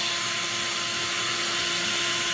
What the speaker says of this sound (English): We're actually going to suck a vacuum, and we're gonna try to get every little bit of air out of there that we can.